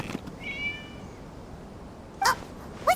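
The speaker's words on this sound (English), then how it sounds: "It was just a cat." A cat in the video game Genshin Impact gives a thin, drawn-out meow early on, then two short, sharper meows close together near the end, over a quiet ambient background.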